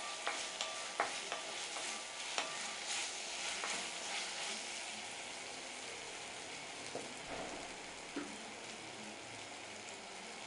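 Ginger, garlic and green chilli sauté in a pan, a constant close sizzle with periodic spoon-on-pan taps and scraping strokes, no voices.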